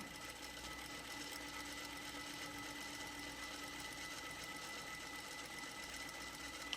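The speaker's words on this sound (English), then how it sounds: "Doesn't matter if I'm sewing these from the top to the bottom or the bottom to the top." A sewing machine runs continuously while stitching N95 masks, a steady, even mechanical whir that holds for the whole stretch at moderate, fairly soft volume.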